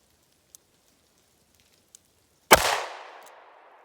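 A single 9mm +P Underwood hard cast pistol round fired from about four feet away, one loud sharp crack followed by a long decaying echo, with two faint ticks before it.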